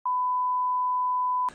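A single sustained censor beep, a pure steady tone lasting about a second and a half over a spoken street address, cutting off abruptly as a voice resumes.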